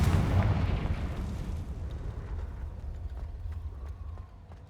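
A fiery blasting spell in a wizarding action game detonates with a heavy booming explosion up front, then a rumbling decay fading over several seconds, with faint crackling debris.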